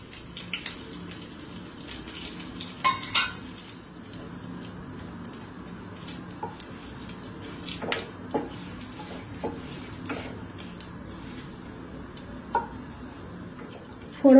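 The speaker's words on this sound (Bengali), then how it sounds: "ফোড়নে দিচ্ছি আমি 2টো তেজপাতা, একটা বড় এলাচ একটু থেতো করে নিয়েছি, একটা লাল লঙ্কা আর একটু গোলমরিচ।" Bay leaves, crushed large cardamom, a dried red chilli and peppercorns sizzle in hot white oil, a low crackling hiss with scattered pops and a few louder clatters of a utensil against the pan.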